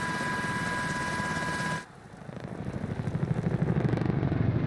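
A helicopter in the Modern Warfare 2019 campaign finale (Gas Factory): a steady whining drone cuts off, then a rotor thumps in, its rhythmic chopping growing louder and faster as it spins up, with no speech.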